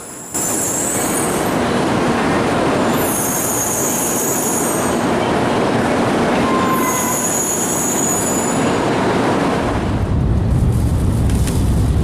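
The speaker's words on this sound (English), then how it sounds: "The line we caught from Hiroshima to Shinosaka to Tokyo was the Sakura and Hikari line." A Shinkansen bullet train on the Sakura and Hikari line in Japan runs at speed, a loud steady rush of rolling wheels with high squealing tones that rise and fade, heard from inside or close by.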